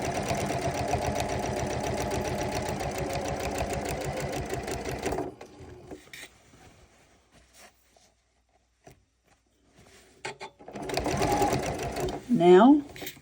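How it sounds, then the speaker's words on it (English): A Janome sewing machine stitches through fabric in a fast, steady mechanical chatter for about five seconds, then stops; after a quiet pause with faint handling, it starts again briefly near the end. "I'm now stitching on the 3/4 of an inch, and down here I'm going to move over to about 7/8."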